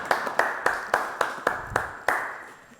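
A small studio audience claps, about eight separate sharp hand claps in a loose, uneven rhythm, each ringing briefly, with no talk.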